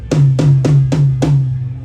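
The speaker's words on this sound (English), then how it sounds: "That's called tom number 1." Five resonant hits on a tom drum at a steady pace, each with a sharp attack and a low ringing tone, played close and fairly loud with no talking.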